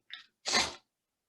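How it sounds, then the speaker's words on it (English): One person sneezes close to the microphone, a brief sharp intake followed by a burst of breathy noise, then silence, with allergies acting up. "you probably hear me sneezing"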